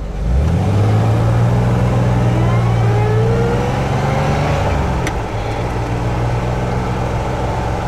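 A 1967 Austin-Healey 3000 series car's engine revs up loudly from a start and holds a steady drone while driving, with pitch shifts through the gears and a brief dip near the end.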